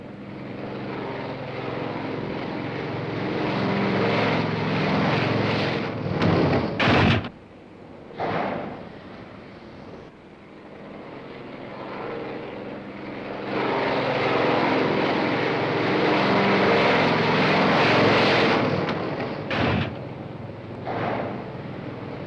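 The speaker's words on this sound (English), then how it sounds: "White flag, land aircraft." A propeller aircraft comes in to land at sea in a 1955 setting, its engine drone loud and steady, briefly cutting out twice before surging back and continuing near and strong.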